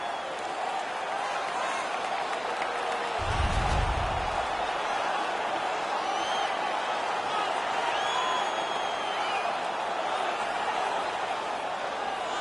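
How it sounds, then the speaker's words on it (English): Hockey arena crowd at a Sabres home game against the Florida Panthers roars in a steady, dense wash of cheering and scattered laughter after a fight, with a brief heavier low rumble swelling a few seconds in. "The crowd is so pumped right now."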